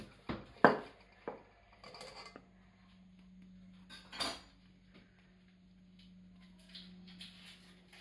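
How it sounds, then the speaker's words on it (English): Icing sugar, 300 grams, being sieved into a bowl, heard as a few sharp metallic taps and clinks early on, then soft scraping over a low steady hum, fairly quiet throughout. "I'm now sieving the 300 grams of icing sugar into the bowl."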